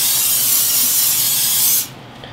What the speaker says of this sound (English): we're going to spray it with some extra virgin olive oil